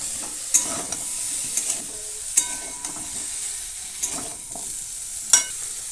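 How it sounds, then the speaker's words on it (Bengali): Carrots fry and get stirred in a pan for a winter vegetable khichuri, with scattered scraping clicks over a steady soft sizzle close by, no talking. "গাজরটাকে দিয়েও দুই থেকে তিন মিনিট ভেজে নেব"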